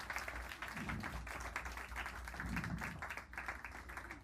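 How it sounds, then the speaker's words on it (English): Audience applause at a young jazz composers concert, a steady dense patter of clapping filling the room at moderate loudness, with a faint low hum beneath and no speech over it. "Big round of applause"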